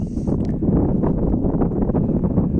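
Low, rumbling wind buffets the microphone continuously, a dull blustery roar with no voices.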